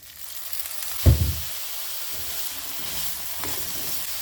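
Eggplant pieces drop into hot oil for adjika with a brief loud sizzle burst, then a steady quieter frying hiss continues with small crackles.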